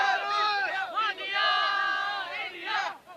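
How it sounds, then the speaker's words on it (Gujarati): Cricket fans in Ahmedabad cheer and shout together ahead of an India vs England match, a dense crowd roar with overlapping excited voices swelling and dipping in bursts throughout. "ક્રેઝ પણ આપ જોઈ શકો છો કે કઈ રીતે લોકો ચીયરઅપ કરી રહ્યા છે."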